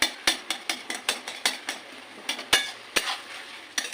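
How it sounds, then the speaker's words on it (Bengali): Green chillies being pressed and mashed with a spatula in a pan during cooking of a banana-flower and prawn dish, giving a steady run of sharp scraping knocks about every third of a second, close and alone. "এই যে কাঁচা লঙ্কাগুলো একটু আমি খুঁটির সাহায্যে একটু ঘষে ঘষে দেবো"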